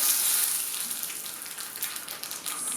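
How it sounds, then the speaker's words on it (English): Green chilies and curry leaves sizzle and splatter in hot oil for a rasam tempering, a steady close hiss with small crackling pops throughout and no talking. "you can add the green chilies and the curry leaves, really nice. And I love that to splatter."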